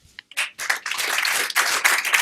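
An audience at a Harvard graduate master class breaks into applause, starting with a few scattered claps and then swelling into sustained, fairly loud clapping that surges again near the end.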